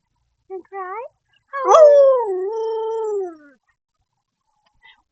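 A pet dog howls on command, close to the microphone: first a short rising yip, then one long, wavering howl that slides downward and fades, with silence on either side.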